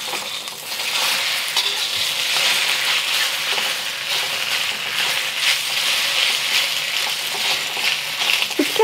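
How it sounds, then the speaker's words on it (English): Fresh rice noodles for beef and egg hor fun stir fried in a wok, a loud, continuous close sizzle with constant tossing and scraping throughout, no talking. "Stir fry this for about a minute."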